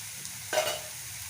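Vegetables with ginger garlic paste tossed in a hot pan for veg cutlets, giving a single short scraping sizzle burst over quiet background hiss.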